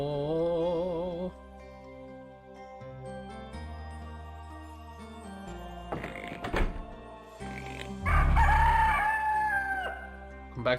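A rooster crows in the video game Yono and the Celestial Elephants, a loud burst near the end that rises over steady game music, with a thunk and faint tinkling elsewhere.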